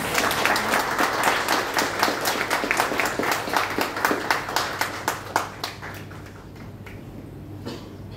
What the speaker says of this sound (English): you deserve a clap